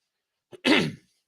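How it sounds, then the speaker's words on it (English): A single close throat clearing from someone talk-show host in a studio, a short catch followed by a rough, raspy rumble lasting about half a second, heard alone. "you heard me clear my throat."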